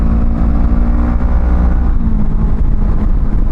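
Honda Rebel 500 motorcycle pulling out of a downshift on the highway: a loud, continuous engine growl with heavy wind rush, rising steadily as it picks up speed.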